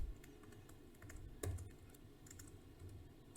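Rapid clicking of computer keyboard keys as code for a Racket function is typed, a steady run of close, soft keystrokes with one louder thump midway and no talking.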